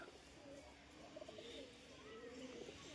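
A newly acquired pigeon flies back to a house rooftop, with soft cooing and faint bird calls over a steady outdoor background hum; no talking.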